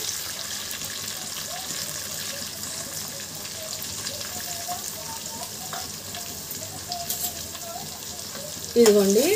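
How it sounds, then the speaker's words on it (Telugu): Two medium onions and three green chillies fry in hot oil for a chana dal mutton curry, a steady close sizzle that carries on evenly until a louder clatter near the end. "ఇప్పుడు 2 మీడియం సైజ్ ఉల్లిపాయలు, 3 పచ్చిమిర్చి వేసేద్దాం."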